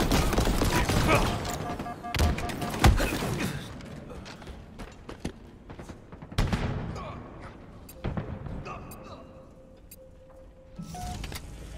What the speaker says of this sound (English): Why do they have so many rockets?